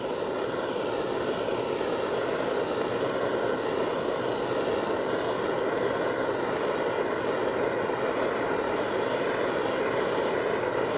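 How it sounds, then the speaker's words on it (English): Torch heating metal on a motorcycle's custom back part, a loud steady roaring hiss that runs unbroken from start to finish, close by and with no speech. "We're gonna heat some more here right on the outside."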